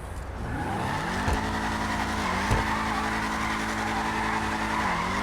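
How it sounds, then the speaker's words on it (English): Tire squeal from a Vapid Dominator ASP muscle car doing donuts in GTA, a continuous loud skid over a steady engine drone, with a couple of brief sharper chirps. "Vehicle is very good at doing donuts, as most muscle cars are in GTA"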